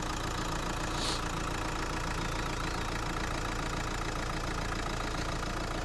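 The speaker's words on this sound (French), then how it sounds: "je vous laisse écouter le bruit du moteur" A 2017 Renault Grand Scénic IV with a 1.5 dCi diesel engine runs at a steady idle, with an even low rumble and a faint rhythmic diesel clatter heard close up, no voices.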